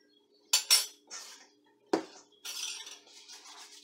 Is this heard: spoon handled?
yes